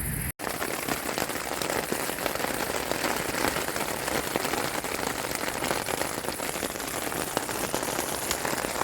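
Rain pattering steadily on a tent pitched beside a field at a campsite during a bicycle tour in Greece, a dense, even hiss that stays constant from a brief break at the start to the end, with no voices.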